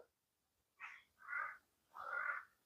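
Birds calling around an abandoned mausoleum, three harsh cawing calls after a brief quiet start, each about half a second long and moderately loud.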